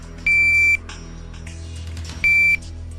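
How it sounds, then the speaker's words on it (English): A shooting-range shot timer buzzer sounds twice, each a loud, steady electronic tone lasting about half a second, separated by a quiet gap with low background hum. "first I want to give you a demonstration of just a buzzer alone"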